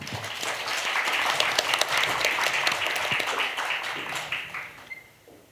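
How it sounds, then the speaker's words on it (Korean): An audience at a Korean panel discussion on military service policy claps for the presenters taking their seats, a steady moderate round of applause that fades out near the end. "큰 박수 부탁드리겠습니다"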